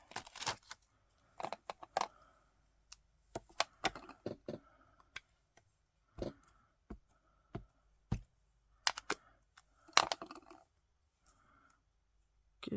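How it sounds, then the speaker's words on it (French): Sharp scissor snips come in quick irregular bursts, crisp close clicks of blades closing, separated by short silences. "Je vais utiliser les ciseaux."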